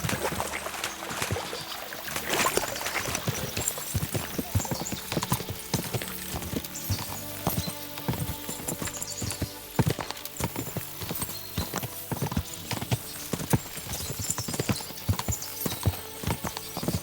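Horses' hooves clip-clop steadily in Kingdom Come Deliverance 2 as riders cross toward a stream, a brisk, continuous drumming close by, with a brief whinny and some splashing mixed in.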